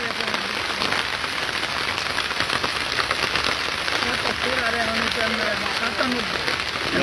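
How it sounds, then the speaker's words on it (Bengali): Heavy rain falls hard in a hilly riverside area during flooding, a loud unbroken hiss of drops striking surfaces throughout, with faint voices mixed under the downpour. "বৃষ্টি বেশি হচ্ছে"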